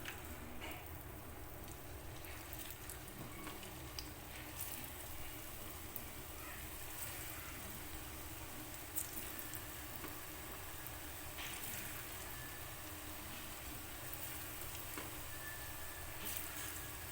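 Kurkure snack pieces frying in hot oil give a steady, soft, crackling sizzle with faint pops and bubbling, quiet and continuous throughout, without talking.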